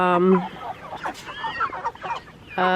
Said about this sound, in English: These other chickens you see in here are actually roosters